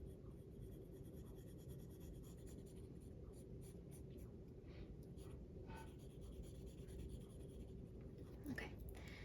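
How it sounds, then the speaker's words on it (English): A pen draws black lines on paper in quiet, scratchy strokes, short sweeps repeating irregularly over a faint background hiss, very close and soft. "I will be drawing some black lines here and there"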